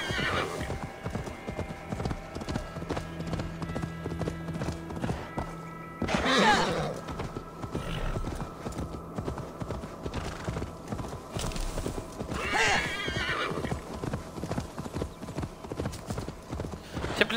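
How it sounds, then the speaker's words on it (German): Galloping horse hooves in Assassin's Creed Valhalla beat a steady, close clip-clop rhythm, with a couple of whinnies breaking through the ongoing hoofbeats. "Ab aufs Pferd und dann weitergeritten."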